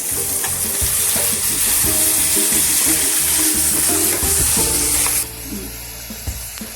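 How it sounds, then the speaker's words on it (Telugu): Stuffed eggplants frying in a pan with onion, green chili and curry leaves give a loud, steady sizzle and hiss with small stirring clatters, the sizzle dropping abruptly near the end. "కరివేపాకు, పచ్చిమిర్చి, ఆనియన్ వేగిన తర్వాత స్టఫ్ చేసి పెట్టుకున్న వంకాయలు ఇలా వేసుకోవాలి."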